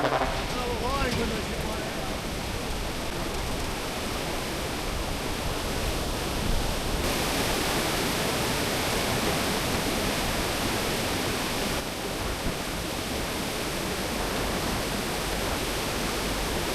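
Loud, continuous rushing water of a turbulent mountain river in Tibet, heard from a small bridge, roars steadily throughout, a dense turbulent flow with no breaks, close and enveloping.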